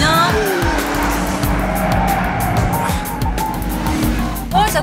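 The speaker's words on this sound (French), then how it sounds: "Ça freine bien." Sports car braking hard on a test drive, tires squealing loudly over a close engine roar that drops in pitch as the car slows, with a person speaking briefly.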